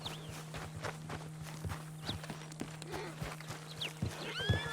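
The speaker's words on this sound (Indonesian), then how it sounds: "Oh, kita suruh tenangkan kuda yang abu ya." In Red Dead Redemption 2, a horse whinnies several times over steady clip-clopping hooves, with a low engine-like hum underneath and no speech.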